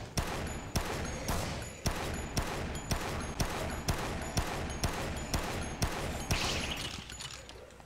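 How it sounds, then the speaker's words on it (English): Sharp gunshots from the zombie game Dead Rising fire in a steady, evenly spaced rhythm of about a dozen loud, close cracks with no talk over them. "Maybe the sounds of my gunshots will wake Isabel up."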